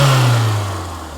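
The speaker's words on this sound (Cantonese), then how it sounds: "哇！ 呢啲引擎聲先係揸車噶嘛。" The engine of a 1990 first-edition second-generation Toyota MR2 revs close by, its low growl fading and dropping in pitch as the rev settles.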